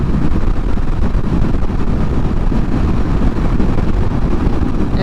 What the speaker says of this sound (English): It's just so goddamn windy,